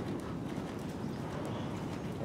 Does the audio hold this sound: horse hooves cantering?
yes